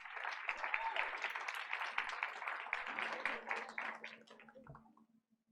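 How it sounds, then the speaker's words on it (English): An audience at a school board of education meeting gives a round of applause, a dense, moderately distant patter of many hands that carries on for several seconds before tapering off to near silence. "Let's give her a round of applause."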